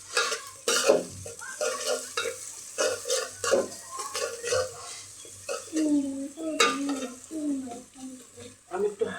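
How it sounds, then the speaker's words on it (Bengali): Onions fry on low heat in a pan while a utensil stirs them, giving soft sizzling broken by frequent scraping and clinking strokes; a faint voice murmurs in the background near the end. "সো এটাতে আমি লো হিট দিয়ে ভেজে নেবো।"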